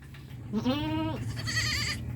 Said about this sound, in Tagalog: Princess, ipastol natin itong mga kambing, sis.